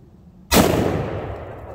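A single loud, close gunshot cracks out of quiet during armor testing, its boom decaying over about a second.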